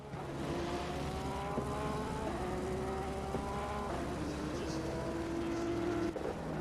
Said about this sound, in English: PJ coming round in the Porsche